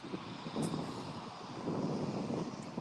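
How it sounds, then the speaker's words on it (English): A jet takes off at Clark Regional Airport in Kentucky during Kentucky Derby arrivals, its engine rumbling as a steady, fairly faint low roar mixed with wind buffeting the microphone. "Here's that first jet taking off."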